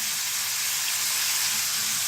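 Cauliflower with a ground spice paste frying in oil, a continuous dense hiss of sizzling that holds steady and close throughout, with no voices.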